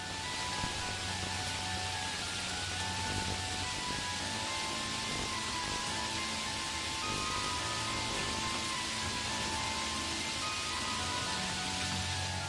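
Rain pours at night in front of a security camera, heard as an even, unbroken hiss under a faint constant electrical hum, with no voices.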